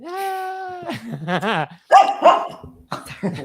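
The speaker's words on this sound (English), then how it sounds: "Got the dog over." A dog barks and yips a few times in quick bursts, close and fairly loud, mixed in with a person's voice talking.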